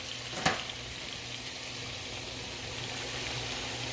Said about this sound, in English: now they're getting sauteed up a little bit